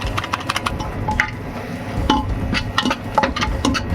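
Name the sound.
stirring spices in a pressure cooker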